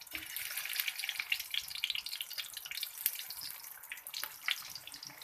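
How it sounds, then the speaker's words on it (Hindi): Shami kebabs sizzle in hot oil in a pan, a steady bright hiss with scattered crackles and pops throughout, fairly loud and close with no voices. "अब हम करेंगे कबाब को फ्राई।"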